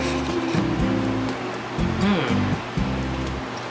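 A Carrier compact inverter air conditioner blowing air, a strong steady whooshing rush with a low hum, while a person talks over it.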